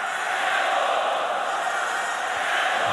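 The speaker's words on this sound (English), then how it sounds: "that has given the crowd something to cheer about here" A handball arena crowd roars steadily, a dense, sustained wash of cheering and shouting from many spectators at a Győr versus Esbjerg match, with no breaks.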